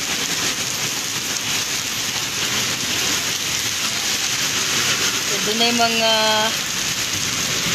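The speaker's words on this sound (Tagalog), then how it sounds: "Kusog japon kayong ulan." Heavy rain pours down steadily during a flood, a dense continuous hiss throughout. A person speaks over it, and a brief rising tonal sound like a horn or voice appears near the end.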